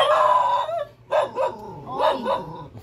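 A dog howls in a long drawn tone, then gives a few shorter yelping barks, close and fairly loud with no talk over it.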